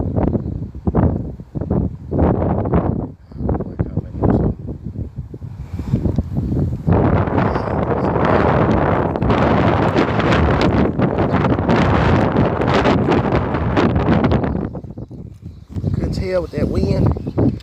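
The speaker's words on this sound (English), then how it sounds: "This wind is crazy." High wind on a fishing outing roars steadily across an open microphone, a loud continuous rush building after a few gusty bursts, with someone talking briefly at the start and end.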